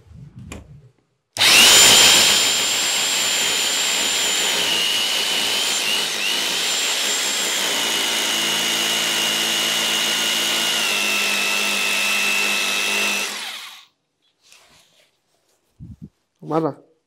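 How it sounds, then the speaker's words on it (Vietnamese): An electric drill bores steadily into a house fixture during home construction, one long continuous whine with a shifting pitch lasting about twelve seconds, loud and close, followed by brief talk at the end. "khoan tiếp vào"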